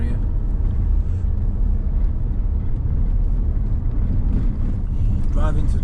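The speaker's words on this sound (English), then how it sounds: "Driving to try and avoid all the ruts and outcrops of rock." A vehicle rumbles loud and steady over a rough, rutted and rocky road on the Seweweekspoort mountain pass, with a constant low engine and tyre roar and wind buffeting throughout.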